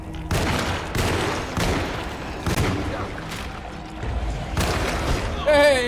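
Gunshots ring out in the video game Alone in the Dark, several loud booming blasts spaced about a second apart and mixed with voices talking over the action.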